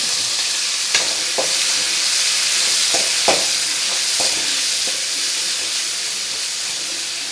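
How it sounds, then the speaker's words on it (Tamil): Tomatoes sauté in a pan for a ridge gourd gravy, giving a steady, close sizzle and hiss with a few faint clicks and stirs, and no talk. "இப்போ தக்காளி நல்லா வதக்கலாம்."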